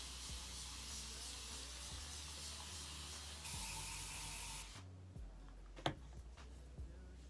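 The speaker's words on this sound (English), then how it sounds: "and I'm just spraying it down." Water spraying from a spray bottle onto natural hair being sectioned for mini twists, a steady hissing mist lasting several seconds, then stopping, followed by faint handling ticks close by.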